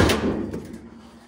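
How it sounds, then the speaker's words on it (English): A car door on a vehicle fitted with a roll cage is pulled open with a single close, loud clunk that fades quickly. No one talks. "Whenever you open the door up,"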